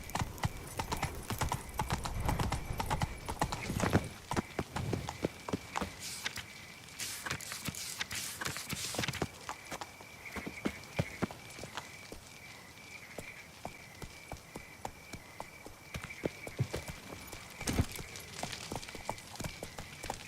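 Roach the horse gallops across the landscape in The Witcher 3, a steady fast clip-clop of hooves repeating throughout with occasional louder strikes and no voices.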